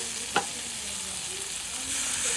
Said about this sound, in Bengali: মশলাটাকে একটু ভালোভাবে কষিয়ে নেব।